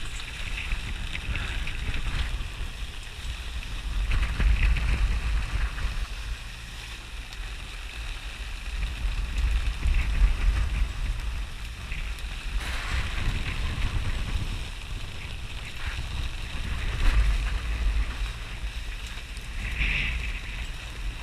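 A sailboat rides rough storm seas, steady wind roar and broadband wave wash surging and falling continuously, with heavier swells crashing at intervals and no voices.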